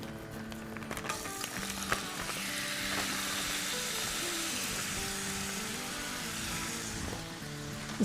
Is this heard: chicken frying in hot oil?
yes